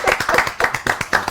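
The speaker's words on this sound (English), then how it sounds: "I think we should clap for you." A small group claps in a quick, steady rhythm at a Citi Business Olympics 2022 gathering, roughly a dozen close, fairly loud hand claps with no talking.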